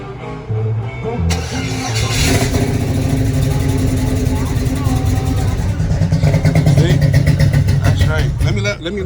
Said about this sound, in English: this is gonna be the first startup with the new fuel pump